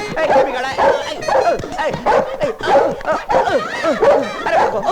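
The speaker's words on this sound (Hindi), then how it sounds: "अरे बचाओ, ये तो असली कुत्ता" A dog barks and yips repeatedly over frantic shouting, the barks loud and close, mixed with excited voices throughout.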